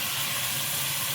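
Water goes into a pan of hot oil while cooking a prawn and vegetable dish, producing a loud, steady, close hiss that lasts about a second.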